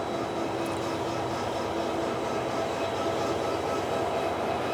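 KTM diesel train 25202 in Malaysia gives a steady, loud engine drone with a constant low hum and a faint tonal whine throughout, with no voices.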